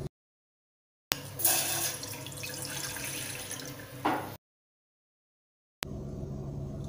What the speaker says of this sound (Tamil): ஒரு பாத்திரத்தில் ஒன்றரை கிளாஸ் அளவு தண்ணி சேர்த்துக்கலாம்